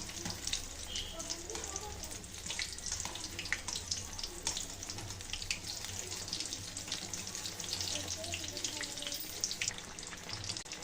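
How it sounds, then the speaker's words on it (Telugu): Green chilies coated in batter for mirchi bajji deep frying in hot oil, a steady dense sizzle and bubbling crackle running loud and close throughout, with no talk over it. "ఇలా రెండు వైపులా డీప్ ఫ్రై చేసుకోవాలండి"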